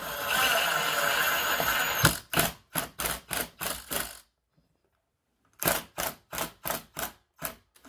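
Screws going into an LED light fixture, heard as two runs of sharp, evenly spaced mechanical clicks from a driver, separated by a silent pause and following a dense, noisy stretch of handling.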